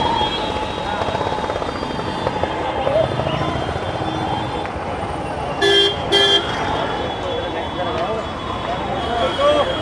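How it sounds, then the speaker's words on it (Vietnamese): Car horns honk amid heavy, congested traffic in India, with two sharp, close blasts standing out over a constant wash of engines and distant honking, while voices talk. "Trời ơi, ai cũng bóp kèn hết nè."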